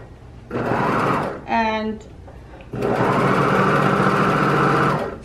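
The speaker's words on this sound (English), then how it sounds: "After you cut a garment, that's when you would do any serging." Serger overlock sewing machine stitching along a cut fabric edge while finishing a garment, running loud and steady in two long bursts with a short pause between, and a person speaking briefly in the gap.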